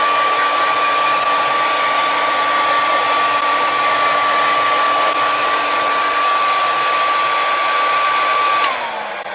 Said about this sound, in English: I'm gonna start blow drying her hair because her hair literally dries quickly.